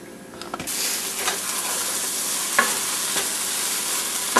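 Ramen noodles fry in a pan over medium-high heat, a loud, steady sizzle that starts abruptly and holds, with occasional stirring scrapes.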